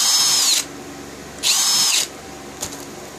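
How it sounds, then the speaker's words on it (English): A power drill bores holes in a notebook cover in two whining bursts of about half a second each, followed by a short final blip. The sound is close and loud, and there is no talking. "And all your holes are drilled."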